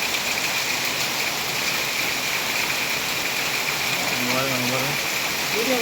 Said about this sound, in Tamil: சரியான மழை பாருங்கள்